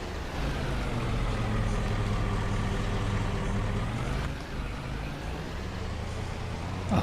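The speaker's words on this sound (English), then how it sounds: "the engine sound on it is now really loud." A loud old bus engine idles steadily in a farming video game, a dense low rumble holding constant throughout with no talk over it.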